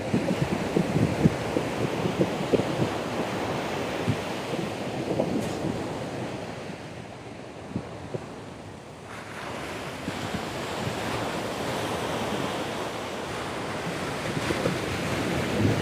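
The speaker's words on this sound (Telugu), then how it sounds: "అది చాలా పవర్ఫుల్ అలలు అదిగోండి అలల్ని చూడండి" Powerful ocean waves break and wash over an empty sandy beach near Pondicherry, a continuous roaring surf with gusts of wind buffeting the microphone, and no talk.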